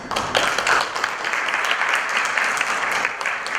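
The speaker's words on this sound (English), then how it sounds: "round of applause for our esteemed panelists" An audience at an intellectual property risk conference in Istanbul applauds its panelists, a dense, loud patter of many hands clapping close by and continuing evenly throughout.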